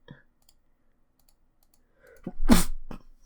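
A single close sneeze with a quick sharp intake of breath just before it, bursting loudly out of an otherwise quiet room and fading within half a second.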